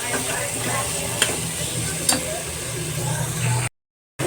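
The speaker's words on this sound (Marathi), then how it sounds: "एक मिनटासाठी आपण या भाज्या मस्त अशा परतून घेऊया" Vegetables for dal khichdi sautéing in a pan make a steady close sizzle and hiss, with a couple of faint ticks of a spatula stirring, before a sudden brief silence near the end.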